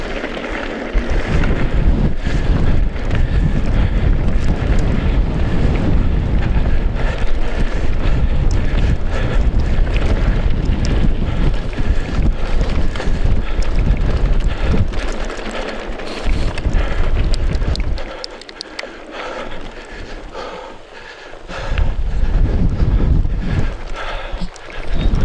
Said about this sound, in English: I thought the wind was going to take me then.